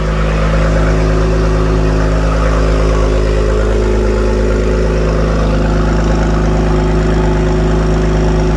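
An Acura NSX NC1 fitted with Science Of Speed downpipes idles after a cold start, giving a loud, steady, even rumble that holds close and constant throughout.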